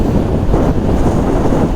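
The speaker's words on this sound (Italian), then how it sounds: "È arrivata una raffica di vento come sentite ora" A strong, continuous gust of wind buffets the microphone outdoors in open country during a motorcycle trip, making a loud, dense, low roar with no speech.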